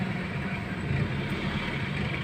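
Slow-moving road traffic in Sampaloc, Manila, heard as a steady, even rumble of engines and a broad wash of road noise without distinct pass-bys.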